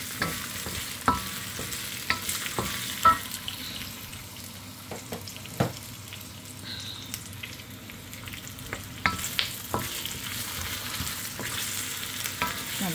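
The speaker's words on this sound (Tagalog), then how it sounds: "Maganda magluto sa wok dahil nakagalaw ko ng maayos." Leftover vegetables stir-fried in a wok hiss and sizzle steadily while a utensil scrapes and taps against the metal pan every second or so, a close, moderately quiet kitchen sound with no speech.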